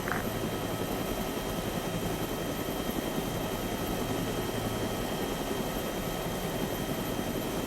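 Helicopter rotor and turbine drone of a Catfish flight lifting off on a military operation, a steady loud continuous whine and thrum throughout with no talk.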